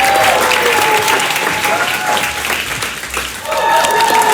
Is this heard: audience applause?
yes